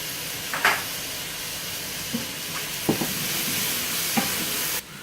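Mushrooms frying in a pot while herbs are added for a mushroom bone broth soup, a continuous soft sizzle broken by a few stirring clacks and scrapes, close up with no voices.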